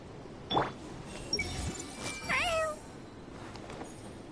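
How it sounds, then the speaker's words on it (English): A cat character in Genshin Impact lets out a single bright, rising meow in the middle, with a few faint game chimes and clinks around it. "she actually meowed like a cat"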